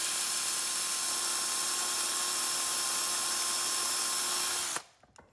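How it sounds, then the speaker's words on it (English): A high-pitched, steady whine of a small drill bit boring into a Hot Wheels car body, running continuously for several seconds before abruptly stopping. "do not push too hard on that drill bit"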